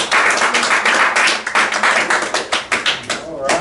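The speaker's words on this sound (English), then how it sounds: "So please give her a strong round of applause." An audience gives a round of applause to a speaker introduced before a real estate purchase agreement talk; dense clapping fills the room, then thins toward the end.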